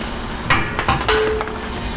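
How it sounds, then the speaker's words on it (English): A mallet taps at a bolt on the shock mount of a new Ford F250's suspension during a CARLI 4.5 pintop lift install, giving a few sharp metallic clangs close by with faint ringing between strikes. "grab yourself a mallet so you can tap the bolt off"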